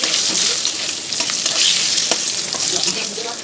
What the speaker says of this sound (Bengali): ভালো করে লাল লাল করে ভেজে নেব আলুটা।